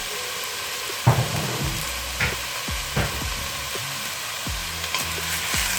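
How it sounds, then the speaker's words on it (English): Onions sizzling in about two tablespoons of oil in a pot, a steady crackling fry broken by several sharp stirring knocks and scrapes against the pot, close and fairly loud with no talk. "braise your onions nicely"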